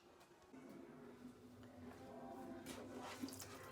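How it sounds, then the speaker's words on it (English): Running water rinses icing off plastic bucket lids at a sink, a steady close splashing wash that swells slightly midway, with a few clinks of the lids. "So I'm just gonna rinse all of the icing off first"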